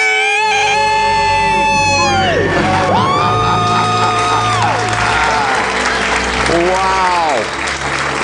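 A studio audience erupts in a debt-free scream: loud whooping, screaming and sustained applause, with voices yelling in celebration over continuous clapping, on a live radio show.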